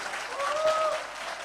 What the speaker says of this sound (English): Come on, give them a round of applause, everybody.